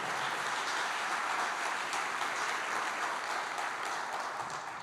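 Church congregation applauds during a sermon, a steady, even wash of clapping that sounds somewhat distant and continues without speech.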